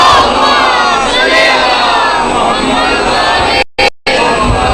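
A large crowd at a Shia majlis loudly chants salawat together, a dense roaring wave of many voices that stays loud throughout and cuts out briefly near the end.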